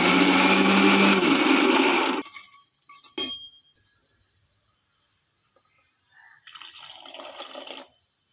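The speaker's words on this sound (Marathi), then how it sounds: "आणि आता हे सर्व पाणी टाकून छान असं बारीक वाटून घ्यायचं" A mixer grinder grinds onion masala, Sunday masala, turmeric and water into a paste, loud whirring for about two seconds, then quiet clinks, and a second, shorter burst of grinding near the end.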